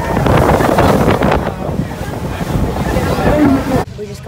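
Boat ride at sea between St. Thomas and St. John, with loud wind buffeting the microphone and rushing water and engine rumble for about four seconds before an abrupt cut.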